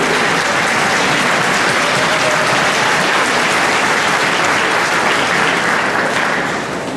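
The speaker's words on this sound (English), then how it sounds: "Give them a round of applause, please, for all of their support." An audience at a school orchestra festival claps in loud, sustained applause that fills the room evenly and fades slightly near the end.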